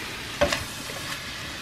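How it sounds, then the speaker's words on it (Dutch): Stir-fry noodles with chicken and vegetables sizzle and crackle in a hot pan, with a brief scrape of stirring near the start over a constant frying hiss. "Ik ga stir fry noodles maken"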